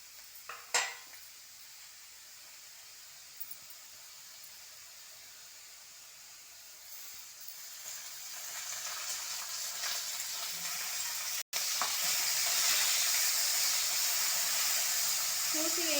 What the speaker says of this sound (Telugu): ప్యాన్లో పచ్చిమిర్చి వేయించుకుందాం.